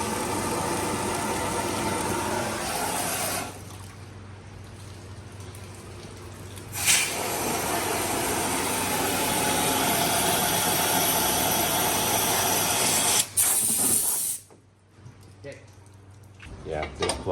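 A 6.0-liter diesel engine roars loudly and steadily while blowing out past a plug, with the rush briefly dropping and surging twice and voices talking over it.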